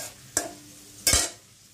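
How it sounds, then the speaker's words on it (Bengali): Nuts and raisins frying in a pan bring two short, sharp bursts of sizzle as they are stirred, the second louder and longer, over an otherwise quiet background. "তাই আমি একটু 2-3 রকমের বাদাম, তারপরে দেখা যায় কিশমিশ, এগুলো সব একটু ভাজা দিয়ে নিই"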